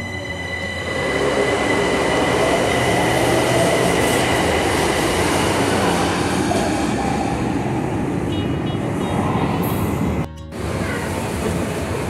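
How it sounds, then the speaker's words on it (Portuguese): São Paulo metro train at Vila Madalena station, a loud steady rumble of wheels on rail with high squealing tones, sustained throughout before a brief dip near the end. "Metrô da Vila Madalena,"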